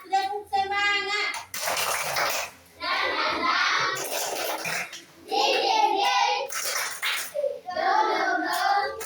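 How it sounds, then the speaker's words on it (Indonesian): A group of children clap their hands together in a classroom in a rhythmic cheer, bursts of clapping alternating with children chanting and speaking. "Iya, tepuk tangan."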